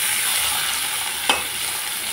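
Chopped onions frying with potatoes in a pan, a steady close sizzle throughout with a brief stir or scrape of a utensil partway through.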